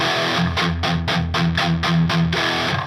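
Heavy distorted electric guitar chugs a palm-muted riff, with quick choppy repeated notes and brief ringing accents, loud and upfront with no voices.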